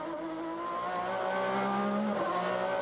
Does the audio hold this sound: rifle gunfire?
no